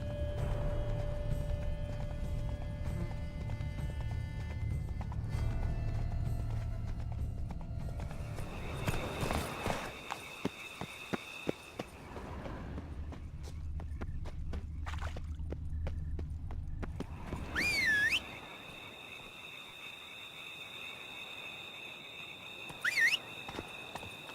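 Spooked horses in a Witcher Blood and Wine game scene gallop with rapid hoof clatter over a game soundtrack, then a shifting mix of effects and a couple of high whinny-like calls near the end.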